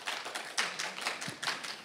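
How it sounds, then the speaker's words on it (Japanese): An audience claps in welcome as a presenter is called up at a Japanese tech talk, a brief patter of hand claps at modest volume with no voices over it. "武井さんを拍手でお迎えください"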